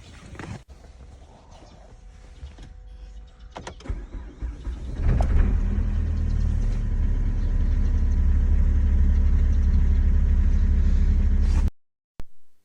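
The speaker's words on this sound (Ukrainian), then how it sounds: "тепер пробую запустити двигун ще раз" After some faint clicks and rustling, a diesel car engine cranks in freezing cold and catches, settling into a loud steady diesel rumble before cutting off abruptly.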